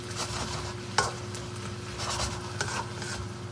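Snow pea leaves stir-fry in a hot wok with rice wine, a soft steady sizzle under a low hum, broken by a couple of sharp utensil clicks against the pan.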